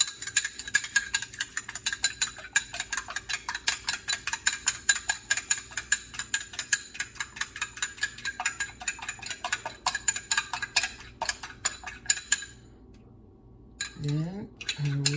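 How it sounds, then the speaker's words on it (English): An egg is whisked briskly in a bowl for a plantain flour cake, fast rhythmic metallic clicking that runs steadily for about twelve seconds before stopping, followed by brief talk. "So I just remove the egg, one egg, and I have to whisk it."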